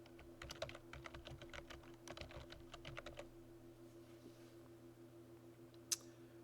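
Quick bursts of keystrokes on a computer keyboard, close and soft, in a rapid clattering run over the first few seconds before falling quiet, ending with one sharp click.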